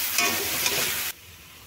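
Vegetable navratan korma being stirred in a hot pan, a steady close sizzle with scraping strokes for about a second before it cuts off abruptly.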